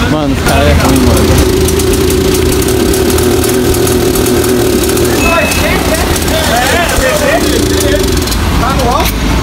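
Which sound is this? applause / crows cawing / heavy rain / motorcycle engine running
motorcycle engine running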